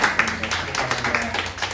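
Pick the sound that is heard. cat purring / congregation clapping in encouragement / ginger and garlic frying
congregation clapping in encouragement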